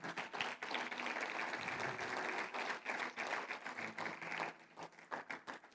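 Church congregation clapping for the Lord after a sermon, a steady, fairly faint burst of applause that thins out toward the end.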